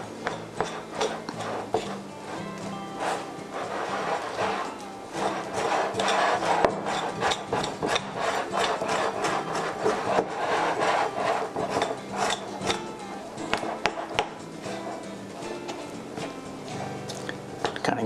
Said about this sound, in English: just incorporating all the ingredients. scraping down the sides of the bowl, stuff like that.